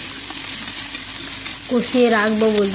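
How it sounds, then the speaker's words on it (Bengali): Chicken with ginger-garlic paste, tomato and spices frying in a pan, a steady close sizzle with occasional stirring, joined near the end by a sustained tonal sound, and nobody talking. "এবারে চিকেন, রসুন, আদা, রসুন বাটা দিলাম, আদা বাটা, টমেটো একসঙ্গে দিয়ে ভালো করে মশলা দিয়ে কষিয়ে রাখবো"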